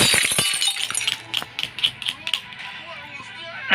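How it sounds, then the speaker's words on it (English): An orange MacBook Pro laptop being smashed, a burst of sharp cracking and clattering impacts followed by scattered knocks and rattles, with a voice talking over it. "Third punishment, smashing your orange MacBook Pro."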